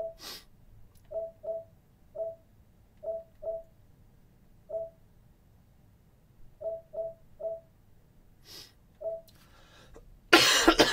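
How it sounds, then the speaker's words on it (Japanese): A run of short, dry coughs, uneven in spacing and fairly close, over quiet room noise, ending in a loud burst of noise. "咳発作が出始めてる"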